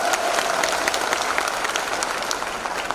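Steady, dense audience applause fills a hall during a Modicare business presentation, many hands clapping continuously at a loud, even level with no talk on top.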